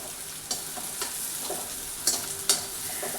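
Peanuts and onion fry and get stirred in a pan, giving a steady close sizzle broken by a few sharp scraping clatters.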